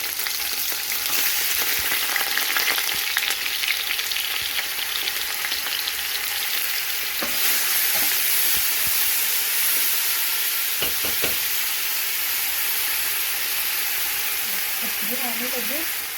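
Green chillies, garlic and ginger frying in oil in a pan, a steady dense sizzle and hiss lasting throughout, with occasional clinks of stirring and a few brief bits of background sound near the end.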